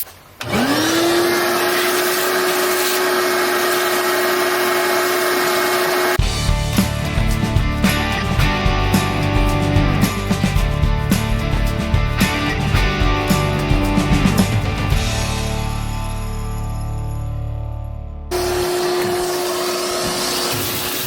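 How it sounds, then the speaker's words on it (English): Vacuum cleaner running inside an old farm truck cab as the floor is vacuumed, a steady loud whine that shifts tone with bumps and knocks as the nozzle moves over the floor, with brief drops in pitch. "I'm gonna go ahead and vacuum the floor"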